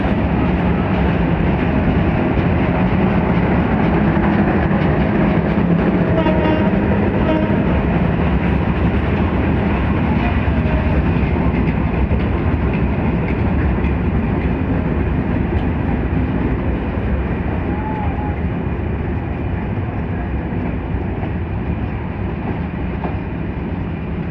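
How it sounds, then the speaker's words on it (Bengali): The Benapole Express rumbles and clatters loudly past at close range through Gandaria railway station, Dhaka, at night, a sustained heavy roar of wheels on rails lasting throughout. "Benapole express train Gendaria rail station দিয়ে বের হয়ে যাচ্ছে ঢাকার উদ্দেশ্যে"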